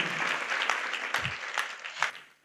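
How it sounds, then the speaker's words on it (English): A church congregation applauds with steady dense clapping and a few sharper claps mixed in, heard close. The applause fades out toward the end. "Let's clap for Jesus."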